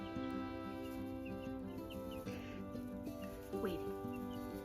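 Cream Legbar and Olive Egger chickens clucking softly nearby on fresh bedding, short murmured clucks scattered over a low steady hum, fairly faint.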